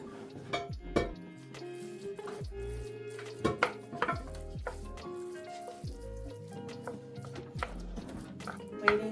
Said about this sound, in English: So I'm just going to get that sauteing.